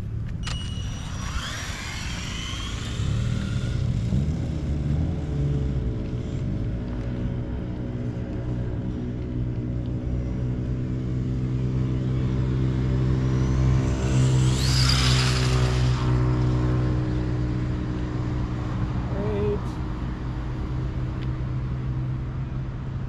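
An RC car on a speed-run track hums along steadily for the whole stretch, its motor tone holding at a moderate distance, with a brighter surge around the middle as it passes closer.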